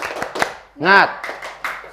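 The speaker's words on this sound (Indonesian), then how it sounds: "Bagaimana kalau kita tepuk semangat terlebih dahulu?" A classroom doing the tepuk semangat rhythmic clapping cheer, with a few sharp claps in quick succession broken up by a loud voice calling out mid-pattern.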